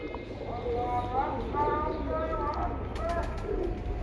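A pigeon on a rooftop coos softly in short repeated phrases, fairly close, over steady background noise, while people talk nearby.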